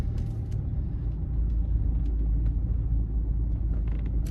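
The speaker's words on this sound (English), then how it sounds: "And then we'll also drive over the speed bump." A BMW 320d M Sport diesel saloon rolls over a speed bump, heard as a steady low road and engine rumble from the cabin with faint clicks and no distinct knocks, with no voices.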